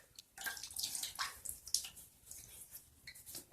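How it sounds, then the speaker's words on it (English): Water splashed onto a face in a bathroom before a wet shave, heard as a series of soft close splashes and drips, fairly quiet, with no talk. "So I'm just going to splash your face one more time and then we'll get ready."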